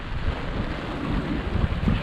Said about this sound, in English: Stormy wet day at anchor.